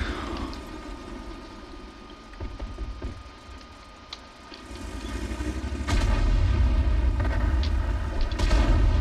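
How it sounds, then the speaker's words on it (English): A World of Tanks 88mm tank gun fires a few heavy booming shots, the loudest late in the clip, over continuous in-game rumble, with keyboard typing clicking in the foreground. "I was able to penetrate the T11 from the front with my 88mm gun"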